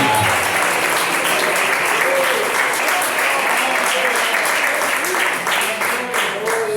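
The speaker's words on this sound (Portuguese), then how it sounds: "Vamos aplaudir a Ele aí, vamos, com muita fé, com muita alegria." A church congregation at an evangelical Portuguese-language service applauds steadily, a dense, continuous wash of many hands with faint voices and cheers mixed in throughout.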